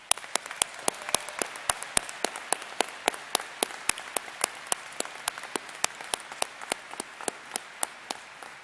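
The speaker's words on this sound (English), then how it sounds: "let's start this ceremony by recognizing our graduates with a hearty round of applause" Sparse, evenly spaced claps ring out at a college commencement ceremony, a thin round of applause from a few hands in a large hall, steady and fairly faint throughout.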